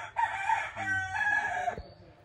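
A silkie rooster crows loud and close among a group of chickens, one full drawn-out call lasting most of the moment and then cutting off, with quiet farmyard background.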